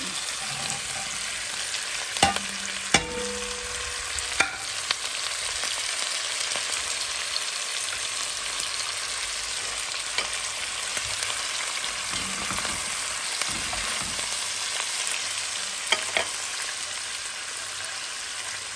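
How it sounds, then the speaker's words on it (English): Lamb pieces frying in a pan give a steady, close sizzle that runs throughout, broken by a few sharp clinks and knocks of utensils, with no talking. "Now let's put back the lamb back into the pan."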